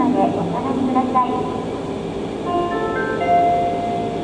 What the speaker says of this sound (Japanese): まもなく3番線に列車が入ります。